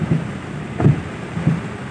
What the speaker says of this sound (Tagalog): lakas ng ulan mga kabero talaga